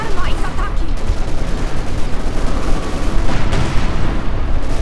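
Dense, continuous gunfire and explosions from the video game Company of Heroes 2, a busy crackling barrage of shots and booms filling the whole stretch without pause.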